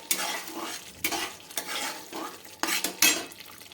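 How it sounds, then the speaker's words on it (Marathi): Masala and green peas for matar paneer stirred in a pan over a high flame, with loud close scraping spoon strokes in a rough rhythm over a frying sizzle and no talk. "आता हे असंच आपल्याला मिक्स करून घ्यायचं आहे आणि याचा गॅसची फ्लेम ही हायच ठेवायची आहे"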